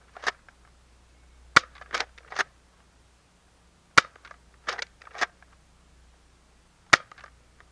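A Nerf Recon Mk.2 blaster fires foam darts at a target, giving sharp, crisp snaps spaced a few seconds apart, each trailed by quick clattering impacts. No voices are heard.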